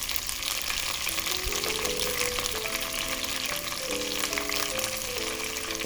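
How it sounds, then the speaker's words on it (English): Green chilies and mint leaves sauté in a pan for chutney, giving a soft, steady sizzle throughout with faint tonal background sound. "green chilies, just saute them slightly, and add the mint leaves"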